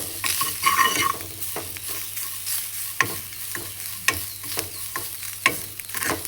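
Poha is roasted in hot ghee with constant stirring, a steady soft sizzle beneath repeated scraping strokes of the spoon against the pan, close up and continuous without talk.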